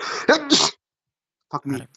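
A man sneezes once, loudly and close up, then swears under his breath after a short pause during a Pixelmon gaming session.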